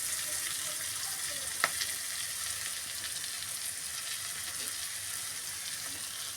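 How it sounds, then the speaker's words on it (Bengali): Ginger garlic paste with chili and turmeric powder frying in a pan gives a steady, even sizzle throughout, with one brief sharp click partway through and no talking. "এবার ওই আদা রসুন বাটাটা দিয়ে দিচ্ছি আমি, আর লঙ্কা হলুদ গুঁড়ো এখানে যেটা আছে এটা পুরোটাই আমি দিয়ে দিচ্ছি।"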